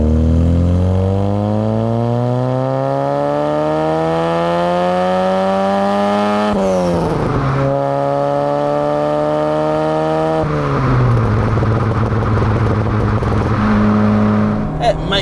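A 1.8-litre Mk1 Volkswagen Golf GTI with a five-speed gearbox accelerates hard up through the gears, its engine note climbing steadily and dropping at each shift, loud and close throughout with no talk over it.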